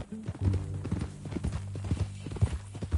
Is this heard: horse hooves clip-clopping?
yes